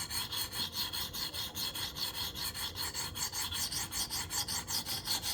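A knife blade being sharpened on a KME stone, quick rhythmic back-and-forth rasping strokes close up, evenly paced and continuing without pause.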